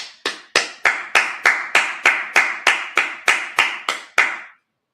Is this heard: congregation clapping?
yes